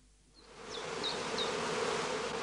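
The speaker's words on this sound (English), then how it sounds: "Work in a heather skep apiary during the cast swarming period." Heather bees swarm at a skep apiary in northern Lower Saxony, a steady close buzzing hum that swells in after a quiet start and holds loud throughout.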